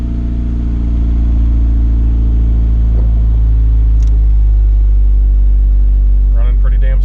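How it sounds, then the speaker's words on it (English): Honda CRX engine idling just after starting, a loud, close, steady low rumble running smoothly throughout, with faint brief noises near the end. "Car fucking fired right up."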